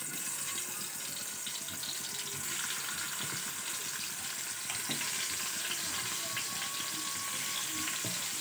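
Koi fish frying in hot oil in a pan for a vegetable fish curry, giving a dense, continuous close sizzle and crackle that holds steady throughout without any break.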